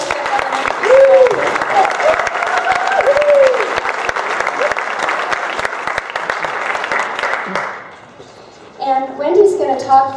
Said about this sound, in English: how about a round of applause for our West Jefferson Elementary School?